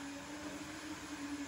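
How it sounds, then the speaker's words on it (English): A vacuum cleaner runs in another room, a steady, muffled drone with a faint hum that holds level throughout, with no voices over it. "can you hear the hoovering?"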